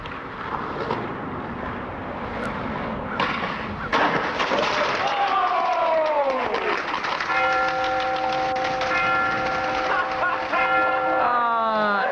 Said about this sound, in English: It sounds like bells.